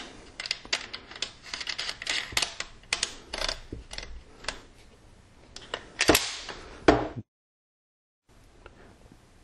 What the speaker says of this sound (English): Push the slide about halfway back. Put on the barrel. And then put the barrel nut back on.